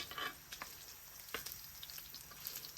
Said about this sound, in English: All right, we need to cook this bacon anyway